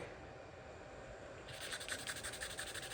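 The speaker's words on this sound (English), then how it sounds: "It's prominent and it's bothering me, so I'm going to sand it back." Sandpaper rubs back a spot on a wooden guitar body in a charity build, a faint close scratchy hiss that becomes a quick back-and-forth rasp partway through.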